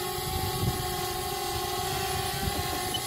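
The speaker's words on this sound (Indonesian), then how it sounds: "Nah, ini drone-nya sudah mau take off ya." Small consumer drones, a DJI Spark and a Ryze Tello, spinning up their propellers for takeoff, giving a steady close buzzing whine with a low rumbling undertone that holds level throughout.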